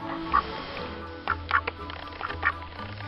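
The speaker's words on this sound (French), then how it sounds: "Canard!" A duck quacks several times in short, nasal bursts, spaced irregularly over a low background hum.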